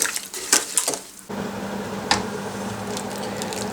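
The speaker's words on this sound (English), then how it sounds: "Then give it a stir and apply heat." White wine or cider vinegar being stirred in a pan: several clinks and scrapes of a spoon against the pan at the start, then a steady low hiss with one more clink.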